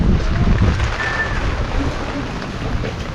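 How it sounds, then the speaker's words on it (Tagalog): Storm wind gusting with rain, a steady rushing roar buffeting the microphone outdoors, loud and continuous with no clear break. "Ang bagyo."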